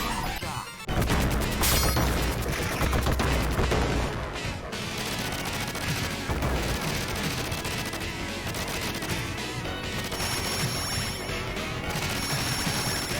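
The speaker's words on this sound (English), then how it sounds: "Too many bombs." Bombs explode in the Teenage Mutant Ninja Turtles arcade game as a dense stream of crashing blasts and thuds layered over busy game sound, loud and continuous.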